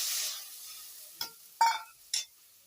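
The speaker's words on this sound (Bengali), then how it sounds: "এখন জল দিয়ে দিচ্ছি।" Water poured into frying spice masala for an egg curry: a faint sizzle fades out early, then three short bursts of hissing and stirring in a quiet pan, with no voices.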